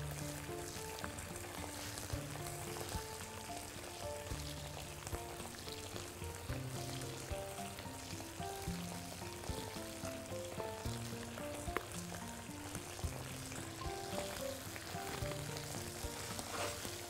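Potato filling for samosas fries and sizzles in a pan while it is stirred, a dense, steady crackle with small scraping clicks of the utensil, fairly quiet and close, with nobody talking.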